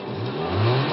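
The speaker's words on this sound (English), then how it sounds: "we think the exhaust might be going a little bit" Car engine with a failing exhaust, a close, loud rumbling drone that rises slightly as the engine revs, with no talk over it.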